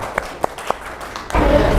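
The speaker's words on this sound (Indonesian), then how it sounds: "Tepuk tangan untuk kalian anak-anak hebat." Children in a classroom clapping for themselves at the end of a morning lesson, a few scattered single claps first, then a burst of group applause that starts abruptly and stays close and fairly loud.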